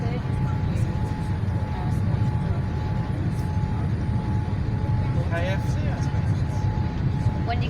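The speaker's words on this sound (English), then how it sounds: "This plane right now is probably about 200 kilometres an hour, I'd say." A Thomson Airways Boeing 787-8 airliner on approach to Manchester Airport gives a steady, loud broadband roar that holds throughout, with faint voices nearby.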